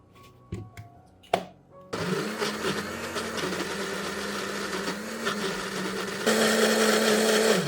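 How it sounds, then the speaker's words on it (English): A kitchen blender purees boiled potatoes with water: a few knocks and taps come first, then the motor starts with a loud, steady whir and speeds up to a higher pitch near the end. "Meanwhile, puree the potatoes in a blender."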